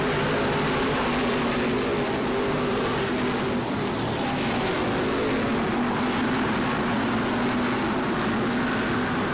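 Race cars roar around the Islip Speedway oval during the Islip 300, a dense continuous engine blare that stays loud and unbroken throughout.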